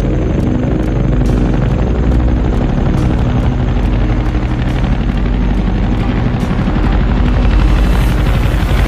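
A military helicopter in a Vietnam War film: loud, continuous rotor chop with a regular thumping beat over a heavy engine rumble, staying close throughout.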